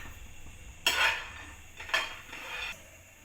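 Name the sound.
pan on stove, roasting peanuts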